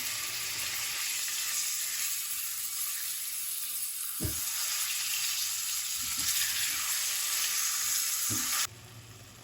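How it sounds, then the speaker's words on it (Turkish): Minced meat frying in a pan for a leek dish, giving a loud, steady sizzle and hiss throughout with a few faint stirring knocks and no talking. "Şimdi kıymayı kavuralım."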